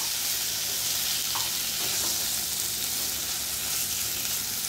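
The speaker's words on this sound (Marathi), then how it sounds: "मटण तेलामध्ये व्यवस्थित परतून घेतलेलं आहे।" Mutton sautéing in oil in a pot for green mutton sukka, a continuous close sizzle and crackle with faint occasional stirring knocks, steady and fairly loud.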